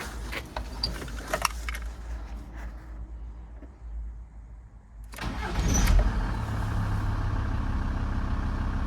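A Volkswagen T4 van's 2.5 TDI diesel, fitted with newly replaced N75 and N18 valves and hoses, cranks and fires up about five seconds in, then settles into a steady, loud idle after some earlier clattering handling noises.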